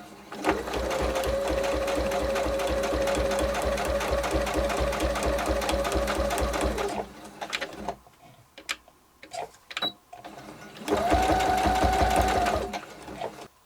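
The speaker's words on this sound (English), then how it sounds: "we're going to stitch all the way across to the next pencil mark" A sewing machine stitches a seam across a toiletry bag, a fast steady mechanical whir and needle patter running for about seven seconds. It pauses briefly amid small clicks and handling noises, then resumes for a short second burst.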